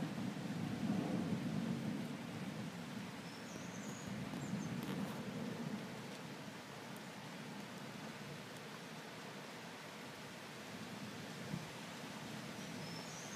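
Thunderstorm over Amboise in the Loire valley, with a low rumble of thunder rolling through a steady wash of wind and rain; a faint crack near the middle, and no voices.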